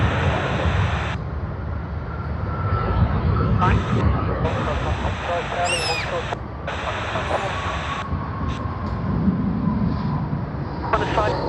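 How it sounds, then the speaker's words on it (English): A Virgin Australia jet departs from runway 16R at Sydney Airport as a broad, steady roar of engine rumble and hiss, overlaid by intermittent clipped bursts of radio-like transmission that start and stop abruptly. "Virgin Australia VA567 will be lining up on runway 16R for its departure to Perth, Western Australia"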